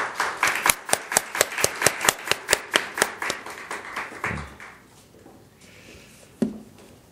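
During a Korean church's Wednesday worship service, a congregation claps in a steady rhythmic beat for a few seconds before the clapping fades out, followed by one sharp knock.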